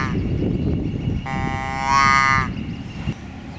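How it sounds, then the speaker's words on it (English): A white-tailed deer doe answers with a contact call, one bleating, tonal cry lasting just over a second, heard clearly over a low background murmur. "The doe, which is the female deer, will respond with this sound and will make this kind of contact sound."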